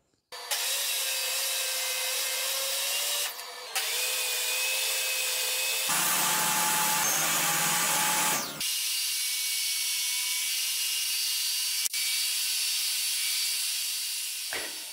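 A table saw blade slicing through a zero-clearance insert in a telescopic miter setup, a loud sustained whining cut with a shift in pitch midway, then a steady hiss as the blade spins on, no talking.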